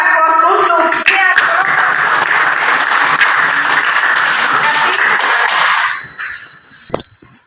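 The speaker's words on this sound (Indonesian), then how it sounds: "Berikan aplaus untuk dia" Loud, dense applause from an audience fills the room, many hands clapping steadily before the sound thins out and fades near the end, with a final isolated clap or two.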